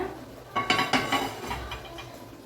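A dosa griddle and pan set down on a stove while cooking chicken biryani: a few clanking metal knocks and scrapes, close and fairly loud, with a sharp clatter at the end.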